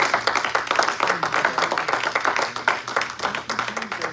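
A church congregation claps their hands in a quick, continuous rhythm, bright and moderately loud. The clapping runs steadily through the whole moment.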